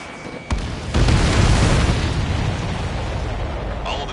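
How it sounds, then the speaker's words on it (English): Missiles explode in the Ace Combat 7 video game: a sudden loud boom hits and swells into a long rumbling blast that slowly fades, with a faint tone and small pops before and after. "All of the missiles have been destroyed."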